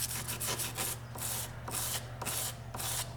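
Hand sanding a surface with 1000 grit cloth while prepping it for paint during a Volvo park assist retrofit: rhythmic back-and-forth rubbing strokes, close and fairly quiet, about six passes with no talk.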